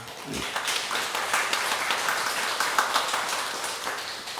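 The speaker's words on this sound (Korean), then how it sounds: "우리 박수 한번 보내주시기 바랍니다" A crowd of worshippers applauds at a Buddhist temple ceremony for the close of the summer retreat, dense sustained clapping from many hands that starts quickly and holds steady throughout.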